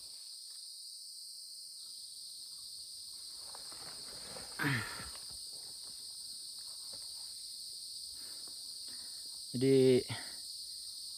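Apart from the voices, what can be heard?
crickets chirping on Mount Raung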